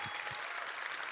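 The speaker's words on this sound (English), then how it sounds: "Please give a round of applause to Doug Chiang." A Star Wars Celebration audience applauds Doug Chiang after his design talk, steady dense clapping from a large crowd filling the hall, even and sustained without voices on top.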